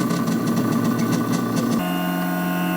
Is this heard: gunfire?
no